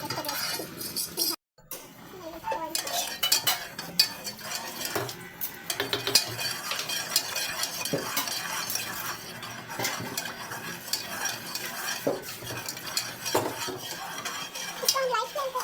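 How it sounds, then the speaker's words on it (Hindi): A spoon scrapes and clinks steadily around a pot of boiling beef nihari, with continuous metallic stirring and rattling at close range. "उबाली आ रही है, हम इसको मिक्स करेंगे।"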